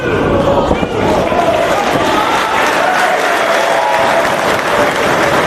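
Wrestling crowd cheering during a Ring of Honor scramble cage melee, a dense, loud roar of excited fans sustained throughout, with a commentator talking over it.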